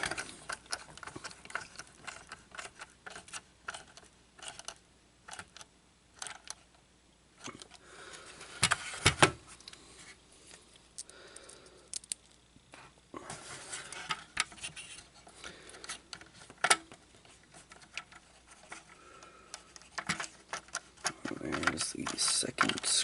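Screwdriver turning a screw into a Star Wars X-Wing model's wing framework, giving quiet ratcheting clicks and scrapes in irregular bursts over about twenty seconds, with small handling noises between them.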